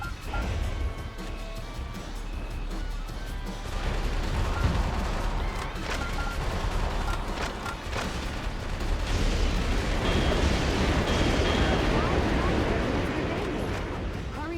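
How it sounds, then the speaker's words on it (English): Big exploding barrels in the game Metal Wolf Chaos: repeated blasts and crashing gunfire in a busy, sustained battle din, with a voice speaking over parts of it. "I know the secret about hitting the big exploding barrels"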